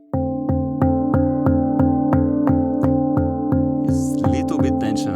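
A handpan is struck repeatedly, ringing clear metallic tones in a steady, even rhythm of about a dozen close strikes, each note sustaining with bright overtones, and a second note joins near the end.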